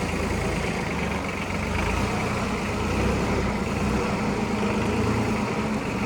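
A Yanmar KE-4 tractor backing up in third reverse gear, its engine a continuous loud low rumble with steady mechanical clatter, close and unbroken, with no voices.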